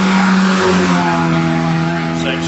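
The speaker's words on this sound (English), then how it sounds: "But this has got an MGB engine in it." Classic pre-1975 saloon or sports car fitted with an MGB engine racing up the Shelsley Walsh hillclimb, a steady loud engine drone with rising harmonics as it accelerates past, with commentary talk over it.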